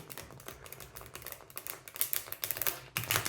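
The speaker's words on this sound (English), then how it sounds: "Just going to shuffle like that in order to get some reverse card as well." A large, sturdy tarot deck is shuffled by hand, producing rapid, dense riffling clicks and flutters that build in intensity over several seconds, close and crisp, with no voice.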